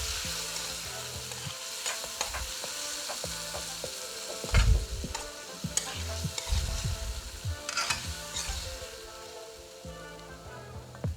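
A curry powder mixture, boosted with an extra tablespoon of curry powder, fries in hot oil for a squash curry, giving a steady, close sizzle broken by repeated scraping stirs of the pan.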